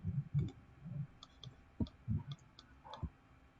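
Mouse clicks from someone working in CAD software on a train assembly: a handful of quiet, sharp clicks spaced irregularly over a few seconds with faint low handling sounds between them.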